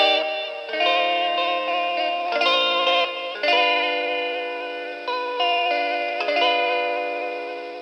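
Chords and melody play through a broken tape recorder, sounding warbly and wavering with a smeared, chorus-like lo-fi character in a steady loud passage without voices.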